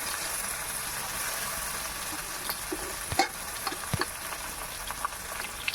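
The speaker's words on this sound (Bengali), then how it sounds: "চালটাকে ওই তেলের মধ্যে আর ঘিয়ের মধ্যে ভালো করে নেড়ে চেড়ে ভেজে নেব" Gobindobhog rice stir-fried in oil and ghee with ginger, a steady hiss of frying under scattered scraping clicks of a spoon, a few sharper knocks midway, close and moderately loud with no talking.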